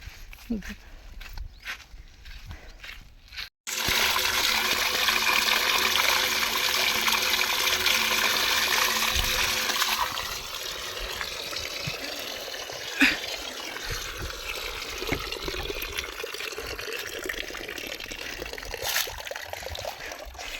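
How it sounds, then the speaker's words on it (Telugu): Water gushes steadily from a farm motor pump outlet as mangoes are washed, a loud continuous rushing flow that starts suddenly and then settles, with a person speaking over it. "ఇదిగోండి కాయ మోటార్ దగ్గర కడగడానికి వెళ్తున్నాను"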